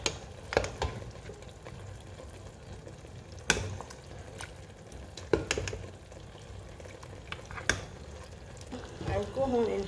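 Protein frying in a pot for a large family meal, stirred with a utensil: a steady low sizzle runs throughout, broken by several sharp clattering scrapes of the spoon against the pot, with a few brief murmurs of voice near the end.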